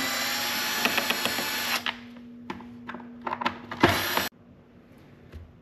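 Power drill whirring as it backs out T30 bolts on a Can-Am Defender during a ghost light install, a long steady run followed by several short bursts and one final spin, close and loud.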